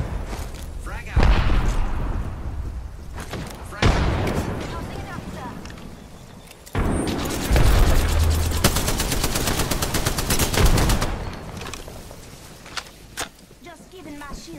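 Explosions and bursts of automatic gunfire in a PS4 shooter game, several loud booms followed by rapid rattling fire that builds and fades, close and dense with a few scattered shots near the end.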